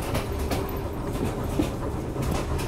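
Rumbling interior of a rickety, shabby train carriage in motion, with a dense low roar and repeated rattling clacks, loud and continuous.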